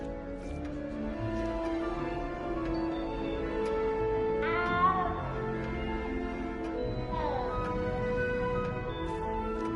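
In Hogwarts Legacy, a frightened game cat lets out two drawn-out cries around four and seven seconds, set against a continuous tonal background score.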